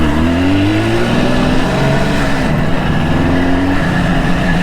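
A 1977 Suzuki GT250 two-stroke motorcycle engine runs on choke, revving loud and close with a raspy buzzing drone that rises and falls in pitch.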